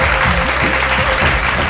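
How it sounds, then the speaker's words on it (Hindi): Studio audience on a televised Bhojpuri singing competition stage breaks into steady, dense applause, loud and close throughout, with a faint voice or music tone running underneath. "मालनी जी के लिए देखो जोरदार ताली"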